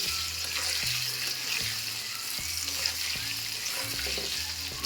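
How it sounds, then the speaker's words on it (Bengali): Salted potato pieces sizzle in a pan as they are stirred for a fish curry, a steady close frying hiss broken by repeated soft scraping strokes, with no talking. "এই লবণ দিয়ে আমি একটু নেড়ে নিচ্ছি।"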